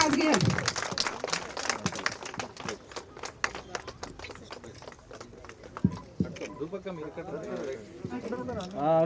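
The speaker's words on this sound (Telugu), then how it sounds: "ఆవిడకి పెద్ద బిగ్ అప్లాజ్." Scattered, fairly quiet clapping from an outdoor crowd at a Sankranthi rangoli competition prize announcement in Manikonda, with sharp individual claps mixed in among voices talking throughout.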